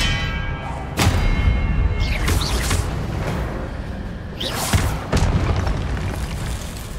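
Spell combat in the Hogwarts Legacy video game, with Expelliarmus cast amid repeated booming thuds and bursts, two sharp heavy impacts standing out over a continuous rumbling background of effects.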